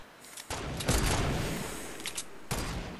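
Weapon fire in Fortnite Battle Royale, a loud run of rapid shots that starts abruptly, holds for about a second and a half and trails off. A second short burst follows near the end, with no talking.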